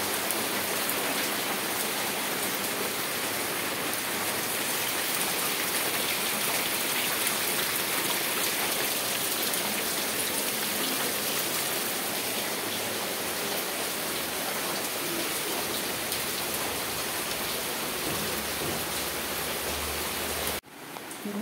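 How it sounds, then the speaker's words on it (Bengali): Heavy rain pours down in a dense, steady roar that stays loud and constant, with a brief change right at the end. "দেখো কি জোরে নেমেছে বৃষ্টিটা"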